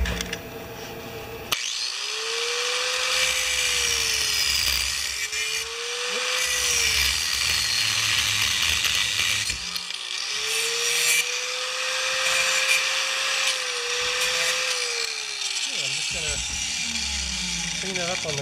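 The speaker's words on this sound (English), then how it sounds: "clean it up on the grinder, big grinder" A big bench grinder whines with a rising and falling pitch while metal is pressed against it and cleaned up, in loud bursts over a steady background hum.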